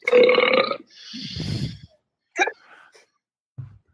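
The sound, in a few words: burp imitating Rick and Morty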